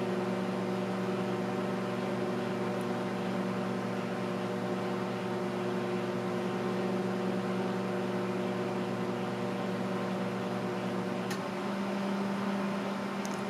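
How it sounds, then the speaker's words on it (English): A Sharp Carousel microwave oven runs with a steady, even hum and whir that holds at a constant level throughout, with no voices. "This microwave keeps impressing me. Well, we can stop it."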